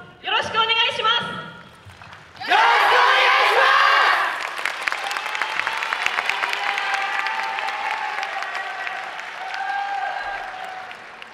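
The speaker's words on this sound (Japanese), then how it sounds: "会場の皆様、温かい拍手、本当にありがとうございます" A yosakoi dance team is announced by a voice over the hall, then a loud burst of audience applause and cheering breaks out at a dance festival and settles into sustained clapping.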